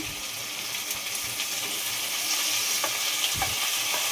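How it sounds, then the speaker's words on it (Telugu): Chicken for gongura chicken curry frying in a pan: a steady, moderately quiet sizzle with occasional sharper crackles and a few stirring scrapes, no talking. "పచ్చివాసన పోయేంత వరకు పట్టుకున్న తర్వాత ఇప్పుడైతే చికెన్ వేసుకుంటాం"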